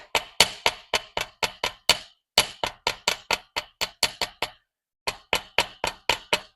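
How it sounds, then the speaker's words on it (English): A tracing hammer strikes the tips of metal hoop earrings to flatten them, giving a close series of sharp, ringing metallic taps in quick bursts with a short pause midway. "So what I'm going to do is I use my tracing hammer."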